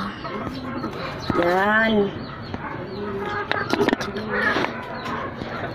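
Hen and cock chickens cluck and call close by, with a drawn-out crowing call in the middle and scattered clucks around it, mixed with a person speaking.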